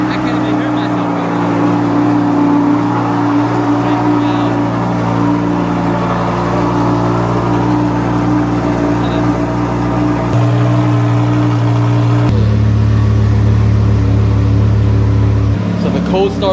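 Lamborghini engine just after a cold start, a loud continuous drone that steps up in pitch and intensity partway through as it revs higher, close and dominant, with someone talking over it.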